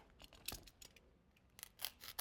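A 2.5 inch foam piece is cut with scissors in a few quiet, close snips and soft rubbing crunches, with a short pause between cuts.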